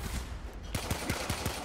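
Pistol fire in the game Warframe, a quick run of five sharp evenly spaced shots after a short build-up of dense battle noise, loud and close.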